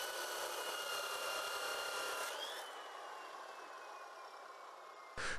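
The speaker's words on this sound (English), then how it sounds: "Crews then cut out the damaged section of pipe using a chainsaw fitted with a water spray to keep the thick iron cool during cutting" A chainsaw fitted with a water spray cuts through a thick iron water pipe, a steady harsh grinding whine that drops in level partway through and then cuts off, followed by a brief clatter.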